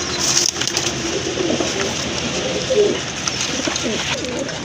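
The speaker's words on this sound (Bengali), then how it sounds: "ইন্ডিয়ান বোম্বাই কবুতর বিগ সাইজের" Indian Bombay pigeons, large pure white birds, cooing in repeated soft throaty phrases close by, with faint background rustle.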